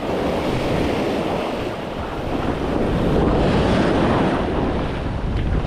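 Ocean waves surge and roll continuously near the shore while strong wind buffets the microphone, a dense, loud wash of surf and rushing air throughout, with no voices.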